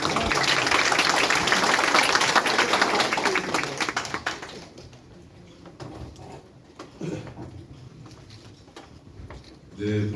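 Dense, loud applause from council members and reporters at a mayor's first-anniversary press briefing, lasting about four seconds before fading into room noise with scattered small knocks and a voice.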